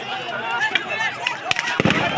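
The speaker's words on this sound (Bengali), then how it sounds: "আমরা দেখতে পাচ্ছি রাবার বুলেট মারতেছে" Rubber bullets are fired, with two sharp, loud cracks in quick succession near the end amid shouting and agitated voices.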